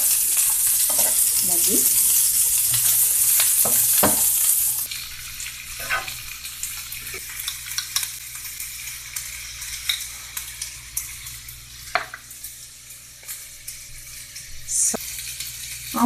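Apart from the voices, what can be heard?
onions sautéing in a pan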